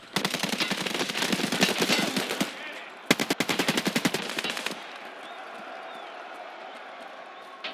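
Two long bursts of rapid automatic gunfire in Escape from Tarkov: Arena, loud and close, separated by a short pause and then fading into quieter background game ambience.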